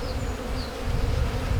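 A dense, steady hum of many honeybees buzzing close by around an open hive, continuous and fairly loud, with no voices.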